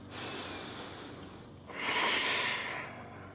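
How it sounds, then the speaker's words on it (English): Deep breathing during vinyasa yoga practice, two long close breaths, a softer inhale followed by a stronger, louder exhale, with no talking. "just taking a couple more breaths here"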